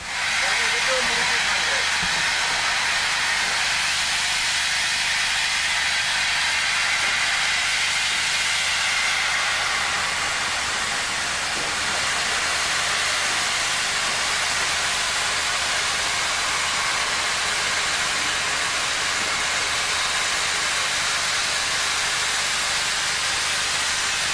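A massive South African steam locomotive hisses steadily and loudly for the whole stretch, a dense continuous rush of steam with faint rail rumble beneath.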